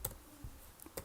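A few sparse, quiet keystrokes on a computer keyboard while entering code, isolated clicks with gaps between them.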